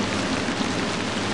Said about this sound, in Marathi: पाऊस काही लगेच थांबेल असं वाटत नाही हो मालक.